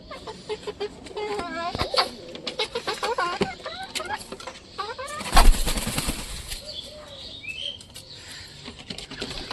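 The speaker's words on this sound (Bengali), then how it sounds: "চলো মুরগিগুলোকে ছেড়ে দিই এরা বাইরে।" Chickens being released from their coop, with close clucking and squawking, wing flaps and scuffling in a busy, uneven burst that peaks midway, while faint voices talk in the background.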